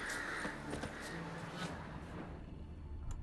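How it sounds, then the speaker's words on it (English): Crows caw in the Skellige countryside of the Witcher 3 video game, a few faint, scattered calls over a low, steady ambient background. "Hear lots of birds."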